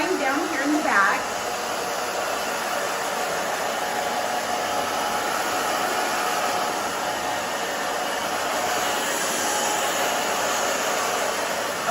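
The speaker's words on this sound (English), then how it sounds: "so Robin, I'm just drying down here in the back." A hair dryer blows steadily on an older woman's short bob for about twelve seconds, a loud, even rushing hiss close by, with a brief voice at the start.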